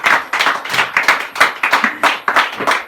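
A church congregation claps together in a steady, lively rhythm of repeated sharp hand claps, loud and close, with no voices rising above them.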